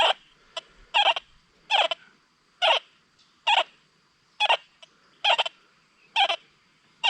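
Equinox 800 metal detector giving a target signal tone over a solo copper-plated shot, heard as about nine short, evenly spaced chirping beeps, clear and alone.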